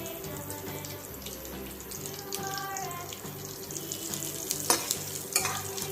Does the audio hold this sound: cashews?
yes